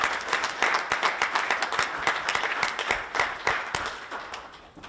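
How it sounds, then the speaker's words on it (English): A county board meeting room bursts into a full round of applause for a newly seated county engineer, many hands clapping steadily for about five seconds and fading slightly at the end. "I would just ask for a round of applause for Mr. Molina"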